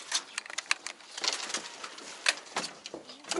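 Pigeons in a loft coo softly and repeatedly close by, with low throaty calls mixed with light rustling and occasional wing or foot noises.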